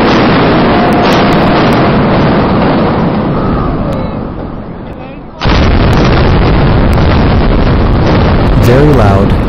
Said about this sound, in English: very loud, unmistakable explosions and bright flashes